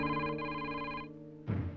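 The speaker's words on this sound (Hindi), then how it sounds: "अबे फोन बज रहा है।" A telephone rings with a bright electronic tone that sounds steadily for about a second, then stops. A short, muffled noise follows.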